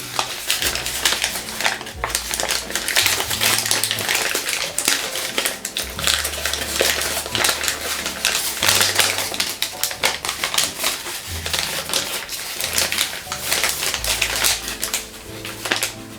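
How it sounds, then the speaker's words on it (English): Origami paper being pushed and folded for a Ryujin 2.1 dragon head, heard as continuous close-up crinkling and rustling with dense crackles and soft taps throughout. "now I'm going to push the paper from this point"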